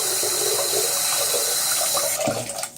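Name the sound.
water rinsing trombone cap at the sink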